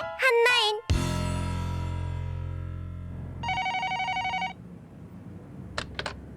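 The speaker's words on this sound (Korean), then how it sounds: "전화 왔다" A telephone rings in a home in repeated electronic bursts, loud and close, followed by a fainter electronic tone and short chirps, with no voices.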